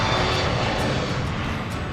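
A steady, loud jet engine roar fills the whole moment without a break, a sound effect standing in for a three-toed sloth's own jet engine in a comic dude-ranch radio ad.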